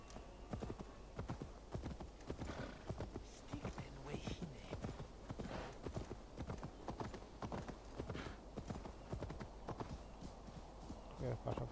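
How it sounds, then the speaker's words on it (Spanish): Horse hooves clip-clop steadily in the video game Assassin's Creed Valhalla, a quick rhythmic beat running throughout at moderate distance, with someone speaking over it. "Vamos a llamar al caballo"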